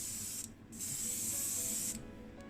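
Gloss varnish sprays from an aerosol can in two hissing bursts, a short one followed by a longer steady one, close and fairly loud with brief pauses between.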